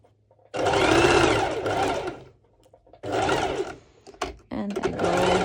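A sewing machine stitching fabric for pole dance wear runs in three short, loud bursts of rapid mechanical stitching separated by quiet pauses, with small clicks in between.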